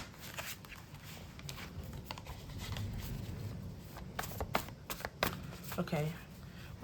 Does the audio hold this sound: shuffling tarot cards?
yes